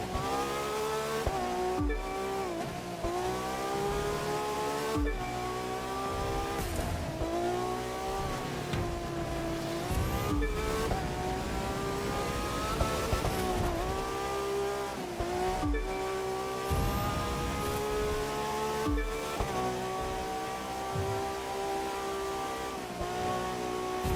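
A racing car in The Crew 2 on PS5 roars continuously at high revs, its engine pitch rising and falling through gear shifts, with squealing tires in the corners, loud and up close throughout.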